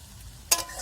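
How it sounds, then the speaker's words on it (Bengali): Potatoes sautéed with spices in a pan, cooked Bengali village style, give a quiet low sizzle that swells into a brief stirring scrape and a louder burst of frying partway through. "মশলার সাথে আলুটাকে কষিয়ে নেবো"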